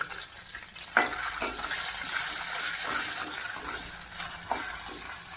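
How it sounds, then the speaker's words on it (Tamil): Cashews and raisins frying in hot ghee for aval payasam, a steady close sizzle with a few brief clinks of stirring, no talk. "இப்போ கிஸ்மிஸ் முந்திரியை போட்டு நெய்யில் வறுத்துட்டு இருக்கோம்."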